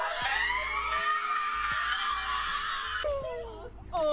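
A drawn-out, pitch-bending scream slowed down from a short social media clip, loud and continuous for about three seconds before trailing into brief voiced fragments.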